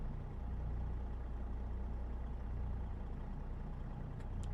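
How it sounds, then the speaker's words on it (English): A Caterpillar diesel engine in a Kenworth W900 truck in American Truck Simulator drones steadily throughout at moderate loudness, with a deep low rumble and a faint high whine near the end. "That's a Caterpillar engine that you hear"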